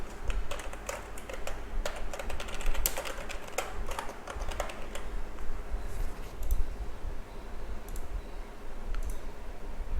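Typing on a computer keyboard while writing a basic hello world program in Python on Windows. Fast, close clicking runs in dense bursts, thins toward the end, and is heard alone.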